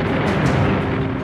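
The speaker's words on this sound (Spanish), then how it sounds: "Los soldados tenían que cavar bajo el bombardeo y los disparos." A dense, continuous rumble of World War II D-Day bombardment and gunfire blasts, loud and close, with no pauses between them.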